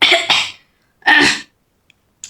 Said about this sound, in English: I had to clear my throat a bit